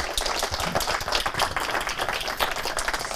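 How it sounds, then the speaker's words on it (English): An audience at a technology talk gives a short round of applause, dense, brisk clapping from many hands heard close and continuous for a few seconds. "Then I think one big Finnish applause."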